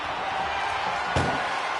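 An ambulance door slams shut during an ambulance match in the WWE 2K25 wrestling video game, a single sharp thud partway through over a steady arena crowd bed.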